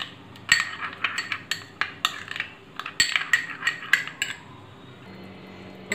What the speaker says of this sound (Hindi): अब हम इसमें ये कसूरी मेथी हम इसे ऐड कर देंगे और इसे अच्छे से हम मिक्स करेंगे।